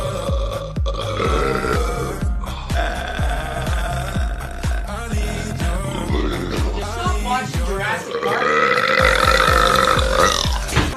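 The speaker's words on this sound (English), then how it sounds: "World's longest burp." A long, loud, rumbling burp after eating a whole package of Mentos, stretching on with a pulsing, guttural rhythm and rising in strength toward the end.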